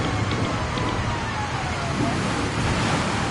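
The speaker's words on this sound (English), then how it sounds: "All I can hear is rain, rain, and more rain." Steady rain in the Gran Turismo Sport racing game, a dense unbroken hiss of falling water heard continuously through headphones, with a faint engine drone beneath.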